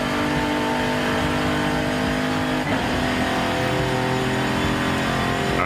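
A D-class car in Forza Horizon 5 accelerates hard, its engine a loud, sustained droning whine that climbs in pitch and shifts slightly midway, with no speech over it.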